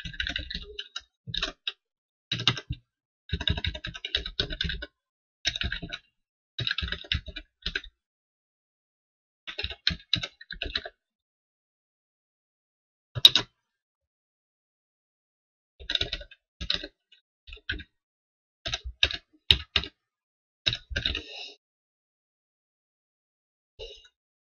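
Terminal command being typed on a computer keyboard while setting up Ubuntu: bursts of quick, close key clicks in uneven clusters separated by pauses, with a single sharper keystroke in the middle and no talking.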